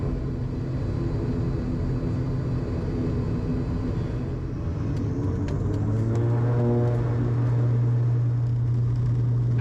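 Small passenger aircraft taking off from Exeter, a steady loud cabin roar of engines throughout, rising in pitch as power builds partway through, heard close from inside with no talking.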